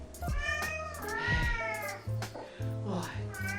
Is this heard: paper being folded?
no